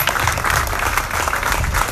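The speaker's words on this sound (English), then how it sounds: "Giving someone another round of applause" Crowd applause at an outdoor rally, a steady wash of clapping that holds at an even, fairly loud level for the full couple of seconds.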